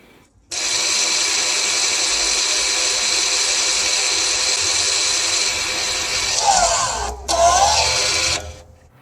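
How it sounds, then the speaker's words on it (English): Rear parking brake motors on a Volvo XC retracting in service mode, a loud steady electric whirring hum that runs for several seconds, shifts pitch, briefly stops, then resumes and cuts off. "you will hear this noise in the back. This means that the parking brake motors go back in place"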